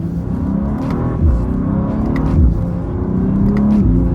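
A BMW G87 M2 with a torque-converter automatic accelerates hard, its engine note climbing in loud rising sweeps with brief dips at shifts, heard from inside the car.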